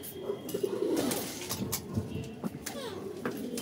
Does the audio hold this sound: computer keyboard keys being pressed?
no